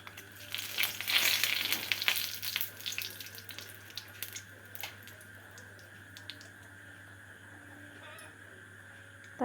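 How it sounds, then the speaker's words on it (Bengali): Bay leaves dropped into hot oil for a mutton curry, giving a bright crackling sizzle that is strongest early and then settles into a softer steady fry, close up. "চলো তেলের উপরে তেজপাতা দিয়ে দিই।"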